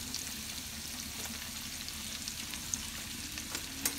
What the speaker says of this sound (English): I have my onions in here sauteing